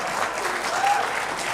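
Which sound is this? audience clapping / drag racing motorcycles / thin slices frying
audience clapping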